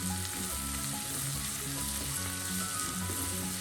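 Onions sautéing with a little salt in a pan for a Kerala-style payar mezhukkupuratti, giving a continuous, even sizzle of frying close by, with no talk over it.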